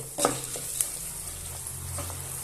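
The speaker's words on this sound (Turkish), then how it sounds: "1-2 dakika kavuruyorum." Ingredients for a restaurant-style strained red lentil soup sauté in a pan, a steady close sizzle with a few spoon scrapes and clinks against the metal, and no talking.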